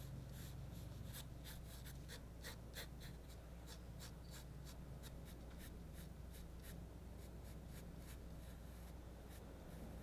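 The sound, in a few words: pencil drawing a lotus petal on paper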